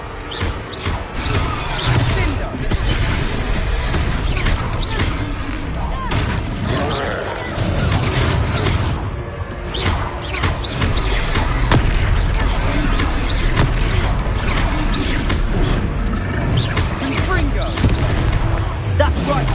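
Confringo fire spells blast again and again in dense, loud combat in Hogwarts Legacy, with booming explosions layered under constant battle noise and character voices.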